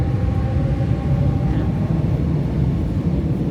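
Steady, loud rumble of a double-decker commuter train riding along, a constant low roar and rattle with no speech.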